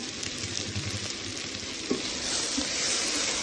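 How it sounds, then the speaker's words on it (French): Sliced ingredients brown in a pot for white fish in coconut milk, giving a steady close sizzle with a soft knock of stirring partway through. "on remue de nouveau, hein. Donc là, vous voyez, ça commence à bien dorer."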